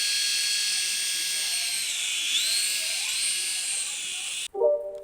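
A small remote control hand sensor helicopter spun up and flying, a high, steady whirring buzz of its tiny rotor with slight pitch shifts, then an abrupt cutoff followed by a short knock.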